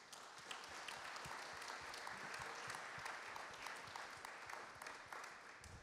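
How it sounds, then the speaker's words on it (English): A symposium audience claps for a panel of speakers in a broad, steady round of applause with dense overlapping hand claps, sustained and fairly distant throughout, with no talk over it. "please join me for a very warm round of applause for our panelists"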